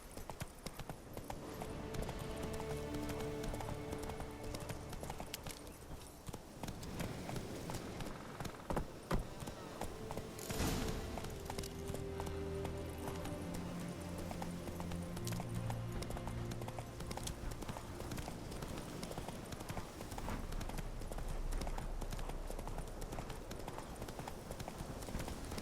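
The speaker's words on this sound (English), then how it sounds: "Whoa there, Roach." Horse hooves clip-clopping at a steady gallop in the Witcher 3 video game, a continuous rhythmic beat over game music and ambience, with a voice speaking briefly.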